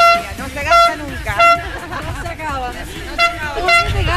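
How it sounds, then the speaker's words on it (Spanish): Horn blown repeatedly at supporters along the Trans Gran Canaria 2013 trail race, sounding several loud short toots over a noisy, chattering crowd. "¿hay bocina para todo el día?"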